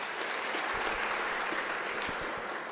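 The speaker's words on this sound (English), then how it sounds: "I also think he deserves a round of applause." A steady, even round of clapping from a large audience at a University of South Africa closing ceremony for the academic year, honoring the convocation president, loud and unbroken from start to finish.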